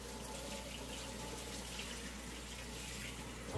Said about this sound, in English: I'm just rinsing off my hand real quick with some hot water.